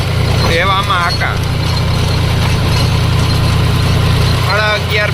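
A diesel tractor pulling a rotavator across a village field gives off a steady, loud low engine drone throughout, with voices briefly heard over it near the start and end.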